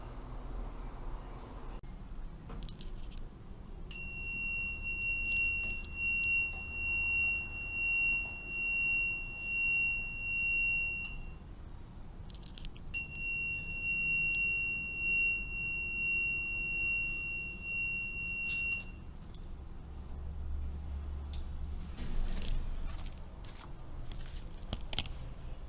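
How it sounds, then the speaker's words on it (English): A small electronic mini buzzer alarm sounds in two long, steady high-pitched bursts, each several seconds, over a low background hum with faint clicks. "it will then activate the alarm by just sounding off the mini buzzer right here"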